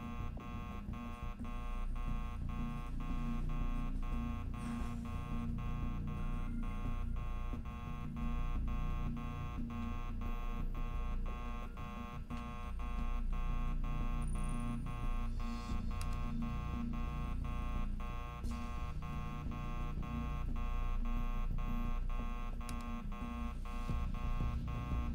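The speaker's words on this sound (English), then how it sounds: "Still hearing a buzzer, but I don't see any error list." A constant electronic buzzer alarm drones steadily in the space-station survival game Tin Can, with a dense, unchanging buzz and faint clicks over it, continuous for the whole stretch at a moderate, somewhat distant level.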